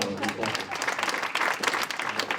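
An audience applauds at the Silver Valley prize-giving ceremony, a fairly close, steady patter of many hands clapping with uneven swells, with some talk mixed in beneath it.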